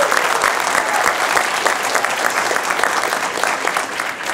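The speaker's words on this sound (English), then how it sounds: "let's give another round of applause for all those great demos we just saw" An auditorium audience at an iOS app demo day gives dense, sustained applause, many hands clapping loudly and evenly with no voices over it.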